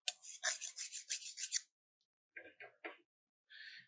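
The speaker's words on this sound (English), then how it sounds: "So you just scrape the top of the tool." A metal woodturning tool has its top scraped to take off the burr, giving a quick run of short rasping strokes followed by a few separate scrapes, close and quiet with gaps of silence between.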